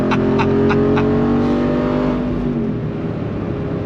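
A 2023 Jeep Wrangler Rubicon 392 20th Anniversary Edition with its V8 roars loudly on throttle, a deep sustained engine note that climbs and then eases off, heard from inside without voices.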